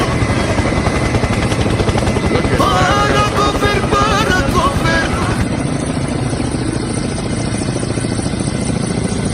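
A helicopter flies near a Rocky Mountains road trip, its loud, steady rotor and engine drone filling the whole stretch, while a person talks over it in the middle.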